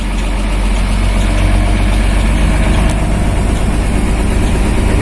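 A Mercedes 1417 diesel truck engine idles just after starting, giving a steady, loud, close-up low rumble that holds even throughout.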